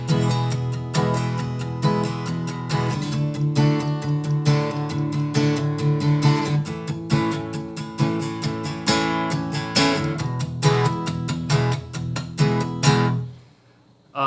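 Electric guitar strumming the verse of a song, steady rhythmic chords ringing loud and continuous before cutting off abruptly near the end.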